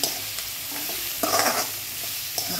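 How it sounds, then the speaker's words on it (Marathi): Onion and mushrooms cook together in a pan over low heat, giving a soft, steady sizzle with a few brief stirring scrapes and one louder burst of frying midway; no one speaks. "कांदा आणि मशरूम एकत्रच शिजला जातं। हे आधी छान कमी गॅसवरती आपण शिजून देणार आहे।"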